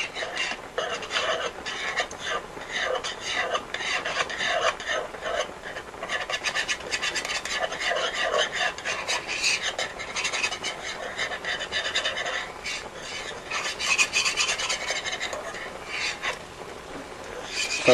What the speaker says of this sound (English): We're going to add our butter and flour mixture. We're going to work that into our wine sauce.